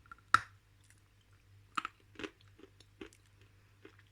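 Crunchy yellow edible clay from Kyrgyzstan is bitten and chewed close up: a sharp crunch opens, followed by several softer irregular crunches and clicks in quiet surroundings.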